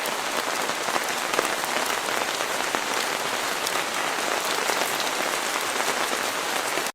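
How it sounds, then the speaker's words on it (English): Steady, dense rain pattering on a surface, a continuous close hiss of drops without pause, with no voices. "I will listen to these different rain sound effects that you guys have submitted"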